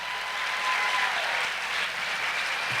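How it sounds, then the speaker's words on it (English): At a charity gala, a full room bursts into sustained, even applause, a dense wash of many hands clapping at once, with no speech on top. "Give yourselves a huge round of applause."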